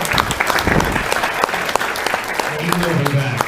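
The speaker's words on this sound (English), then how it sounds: "One more time, big round of applause." An audience at a racing banquet applauds: dense, continuous clapping from a crowd fills the room while someone speaks over it.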